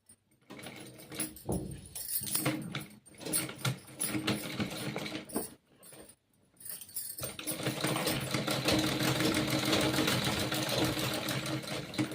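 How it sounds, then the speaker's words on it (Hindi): A sewing machine stitching a zip onto a lehenga, with short whirring bursts and pauses, then a long continuous run of rapid stitching near the end. "तो गाइस देख सकते हैं इस तरह से हमने सिलाई लगा दी"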